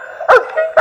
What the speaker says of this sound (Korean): 개 짖는 소리 나오죠?